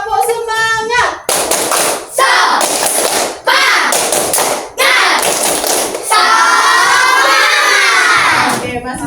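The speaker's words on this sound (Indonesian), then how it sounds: "Oke, tepuk semangat." Schoolchildren in a classroom perform a rhythmic spirit clap, loud bursts of clapping in set patterns broken by short pauses, mixed with their shouted chanting voices close by.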